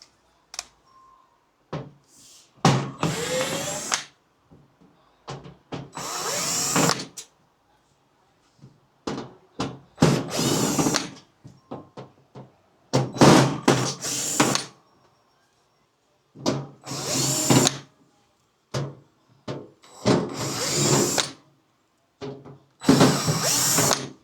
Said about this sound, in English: We have Phillips screws to remove. Now let's do that.